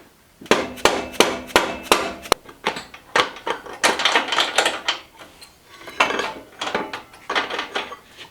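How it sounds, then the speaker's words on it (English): A cotter pin is hammered out of a chopper motorcycle during teardown: close, sharp metallic strikes come in rapid bursts of several blows with short pauses between, with no talking. "let's go ahead and take this cotter pin out of here"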